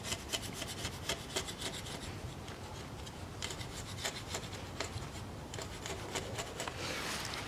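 A chisel-like scraper cleans a part during a CVT oil change on a 2010 Nissan Murano Z51, making repeated quiet rasping scrapes in short irregular strokes, close but faint.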